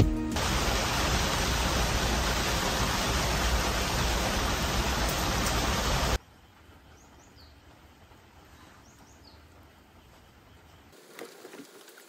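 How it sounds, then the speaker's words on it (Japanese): Heavy rain pours down at a solo campsite as a dense, loud hiss for about six seconds, then drops abruptly to a faint, quiet patter with a soft bump near the end. "ちょっと雨がひどいのでもうちょっと小雨になったら撤収します"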